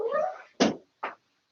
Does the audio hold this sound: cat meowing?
yes